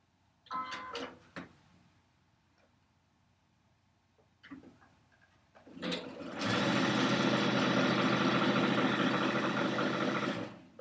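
Sewing machine stitching quilt block squares a quarter inch from a drawn line, with a few handling knocks and short starts before a loud, steady run of rapid stitching lasting several seconds.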